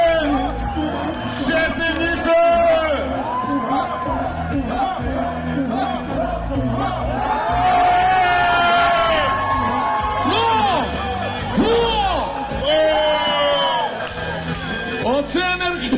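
A large crowd shouts, whoops and cheers together at a festival where a living fire is made by friction in Vinnytsia, with loud, sustained overlapping voices throughout.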